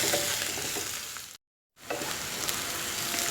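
Chopped onions and curry leaves sizzle and fry in a pan for a bean poriyal, a steady crackling sauté close by that cuts out completely for a moment before resuming.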